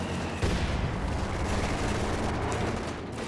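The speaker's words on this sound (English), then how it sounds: "he starts shooting at these conscripts" Dense, sustained gunfire from a World War II real-time strategy game, with conscript infantry under fire, forming a loud, continuous rattle of mixed shots and booms with no pauses.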